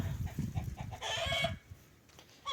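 Hens in a backyard coop squawk and cluck loudly in a rapid, agitated burst, then quiet briefly before another short squawk near the end.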